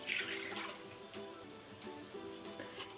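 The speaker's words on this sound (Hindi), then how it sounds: "इसमें हम 1 कप पानी ऐड कर देंगे साथ ही।" A cup of water poured into mash lentils, a light splashing trickle with small drips, close and quiet, and no one speaking.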